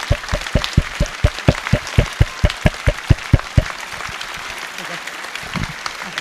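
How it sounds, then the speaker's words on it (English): Audience applause at a charity cup event for Prostate Cancer UK, heard as a rhythmic run of sharp, evenly spaced claps for about three and a half seconds before trailing off into quieter room noise. "a massive round of applause to every single one of you for coming in and doing this today."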